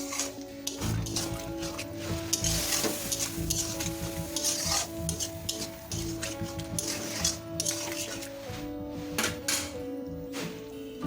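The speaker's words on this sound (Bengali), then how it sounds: "এখন এটাকে আমরা মিনিট 5 ধরে লো টু মিডিয়াম ফ্লেমে কষাতে থাকবো।" Pointed gourd and poppy-seed curry cooks with a little added water in a wok over low to medium flame, a continuous sizzle and bubble with scattered clinks and stirring scrapes of a utensil against the pan.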